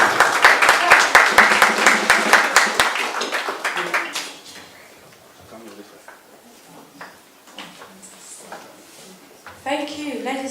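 Audience applause at a grand launch event, dense clapping for the first four seconds, then dying away into scattered claps and room murmur before a voice begins near the end.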